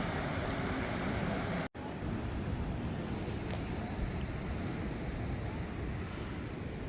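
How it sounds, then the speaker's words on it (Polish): Small sea waves wash gently and continuously against the rocky shore near Lisbon, Portugal, mixed with rushing wind buffeting the microphone, with one brief dropout. "No, małe fale są dzisiaj."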